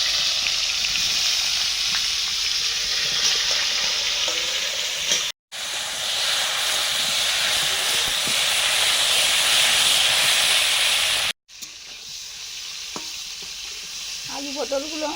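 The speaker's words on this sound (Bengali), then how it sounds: "নুন মাখিয়ে দিয়েছি আলু পটলে, ভাজছি এখন।" Potato and pointed gourd pieces fry in hot oil, giving a loud, continuous sizzle and hiss with brief stirring scrapes and two short breaks in the sound.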